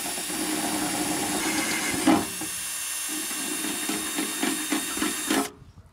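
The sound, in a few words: power drill enlarging holes in a car's rear valance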